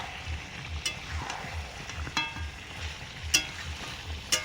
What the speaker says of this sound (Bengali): এবারে ভেজে রাখা আলুগুলো দিয়ে দিলাম, হালকা ভাজা, এর সঙ্গেই সেদ্ধ হবে।